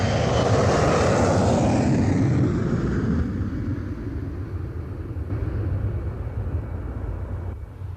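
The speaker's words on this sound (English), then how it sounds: "It's not a bird, it's an airplane." A propeller airplane passes overhead, its engine drone loud and rumbling at first, then fading and receding into a lower, distant hum.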